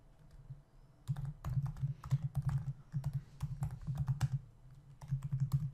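Java code being typed on a computer keyboard, a close, steady clatter of rapid key presses in bursts with short pauses, and no one speaking.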